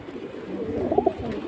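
At a pigeon market, a pigeon gives one short, soft, throaty coo close by against quiet background murmur.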